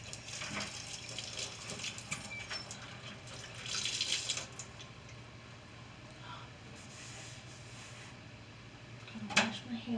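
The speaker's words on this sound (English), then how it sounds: "Gotta wash my hands off real quick." A kitchen tap runs steadily while hands are washed under it during home baking, a soft continuous splash with brief clatters and a voice talking nearby.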